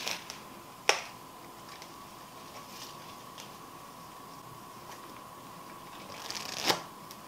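A deck of playing cards is sprung in a LePaul spread, giving two quick crisp riffling bursts near the start and end, with a faint steady hum between them.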